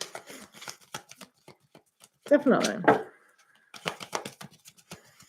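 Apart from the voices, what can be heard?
shuffling tarot cards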